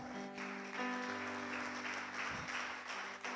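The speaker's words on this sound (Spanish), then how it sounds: "Denle un aplauso al Señor." Church congregation applauding during a Spanish-language sermon, a continuous crowd of clapping hands, with a sustained tone from instruments or the sound system running underneath.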